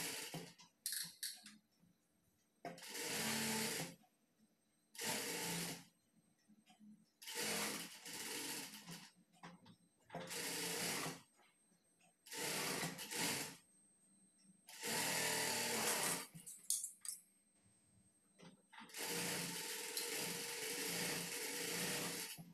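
A sewing machine stitches a blouse sleeve in repeated bursts of rapid mechanical whirring and clatter, each lasting one to three seconds and separated by brief pauses, fairly close and loud.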